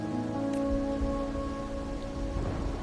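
Steady heavy rain from a storm in Wuthering Waves hisses and patters continuously under a low rumble of wind or thunder, with a faint sustained tonal drone. No one speaks.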